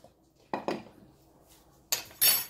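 A metal spoon clinks against a bowl while pancake batter is being mixed, a handful of sharp, close taps with the last two louder and brighter, in an otherwise quiet kitchen.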